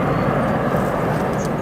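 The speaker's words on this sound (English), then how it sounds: "Great aircraft there." Aircraft noise at O'Hare International Airport, a steady broadband engine roar filling the whole short stretch without a break.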